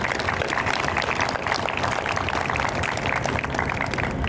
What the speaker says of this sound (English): I'd like to give the families a round of applause.